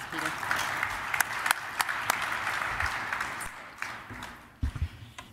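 A lecture audience at a NIPS 2017 talk breaks into sustained applause, a dense steady wash of clapping for about five seconds that thins and tapers with a few last claps near the end.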